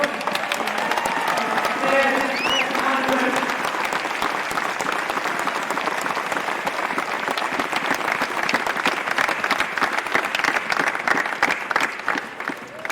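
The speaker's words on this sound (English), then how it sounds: "Can I just get the crowd to give the biggest round of applause we can to the Moylagh supporters?" A crowd applauds the Moylagh supporters at the Meath Hill v Moylagh junior football final in 2017, sustained dense clapping with cheering, and a voice briefly heard early on amid the ovation.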